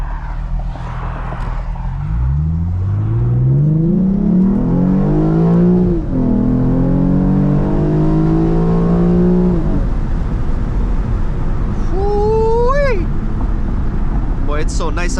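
A Lexus IS350 with full bolt-ons and a tune revs hard at full throttle on backroads, pitch climbing through the gears as it accelerates, loud and close, with a rising whine near the end.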